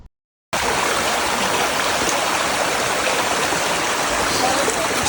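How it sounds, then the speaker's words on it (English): Clear snowmelt water rushes in a stream at Exit Glacier, Alaska, a steady, close, broadband roar that starts abruptly after a brief silence and continues evenly. "Snow melting water here."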